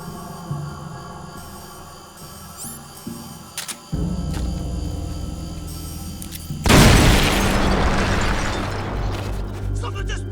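A heavy, roaring explosion bursts loud and close in Metal Gear Solid: Peace Walker on PSP, following quieter game ambience and a sharp click, with the rumbling blast sustaining to the end.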